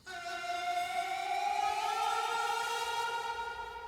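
Distorted vocal line, overdriven at the preamp and run through Echo Boy echo and Valhalla reverb, rendered as a sustained, smeared tone with stacked bright harmonics that glide slightly in pitch. It rises quickly and stays loud and steady to the end, with no talk.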